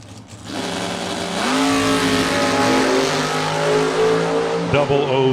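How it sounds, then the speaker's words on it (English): A Gen 2 Chevrolet Camaro launches and accelerates hard down a drag strip at a door-car race, its engine roaring loud and close, rising through the gears with a brief break near the end. "Tyler in the Gen 2 Camaro"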